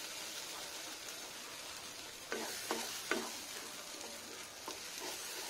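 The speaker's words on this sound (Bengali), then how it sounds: "খুব ভালো করে কষিয়ে নিতে হবে এটাকে" Pea filling for kochuri is stir-fried in a pan, giving a faint, steady sizzle broken by a few soft spatula scrapes, quiet and close, with no speech.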